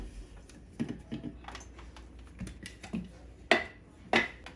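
Light dry rattles and clicks come in scattered bursts, dried hollow peppers shaken close up, quiet between the louder taps.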